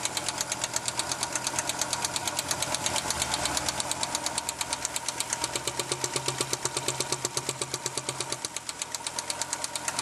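A 1987 Audi 4000S engine idles with a fast, steady lifter tick, a loud close rattling rhythm over the running engine with no talk.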